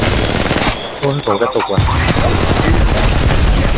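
Rapid automatic gunfire from a VK-47 rifle in a match of Apex Legends Mobile, loud bursts of game shots with a player talking over them partway through.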